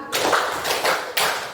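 Three quick, bright hand claps from children doing the tepuk malam clapping game ring out close and loud in a short, even burst.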